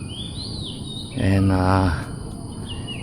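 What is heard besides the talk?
magpie robin bird calling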